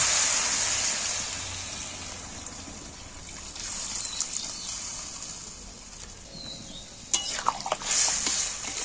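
Water poured into a pan of spice masala that has dried and released its oil, a soft hissing trickle that swells into a brief louder splashy burst near the end, heard alone.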